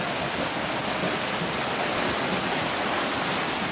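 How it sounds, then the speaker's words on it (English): Bubbling water from an indoor geyser at a wilderness-style resort lodge, a steady, even rushing hiss with no breaks, fairly loud and close, with no voices. "And the bubbling water."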